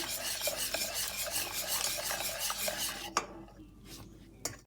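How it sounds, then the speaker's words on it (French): Milk being stirred gradually into a cake mixture in a bowl, rapid rhythmic scraping and clinking of a whisk or spoon that stops abruptly, followed by two isolated taps. "je rajoute progressivement le lait pour bien mélanger ça avant de le mettre sur le feu"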